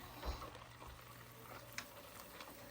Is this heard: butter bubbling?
yes